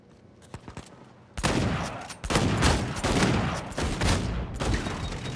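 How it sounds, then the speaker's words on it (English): Shotgun fire in the Uncharted 4 video game: a few faint early blasts, then dense, loud overlapping bursts of gunfire filling the rest of the stretch. "They all have shotguns over there."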